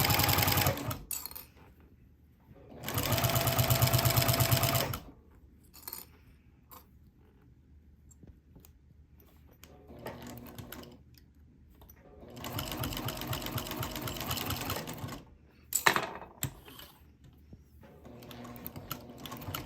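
A sewing machine stitching a vinyl project bag runs in two bursts of rapid, even needle rattle, with quieter handling clicks and pauses between, close and alone with no talking.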